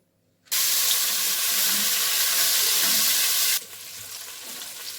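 Rupchand (pomfret) fish freshly caught from a lake sizzles loudly in hot oil, a steady close hiss that starts abruptly, holds for about three seconds, then drops to a softer, lingering fry.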